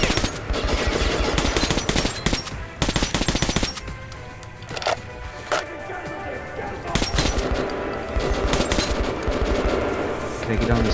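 Rapid bursts of military automatic gunfire in Metro 2033 Redux, loud and close, firing in long rattling strings broken by short pauses, with voices talking over parts of it.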